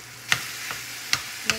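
Two pounds of ground beef sizzles softly in a pan while a spoon stirs it, making a few sharp scraping clicks against a low, steady frying hiss.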